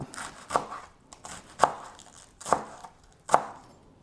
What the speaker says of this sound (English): And for ease of cutting, I like to just roll up the leaves and slice them kind of like that.